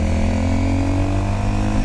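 A Honda CRF300 motorcycle engine with lowered gearing hums at steady high revs, a loud, continuous close drone without gaps or speech.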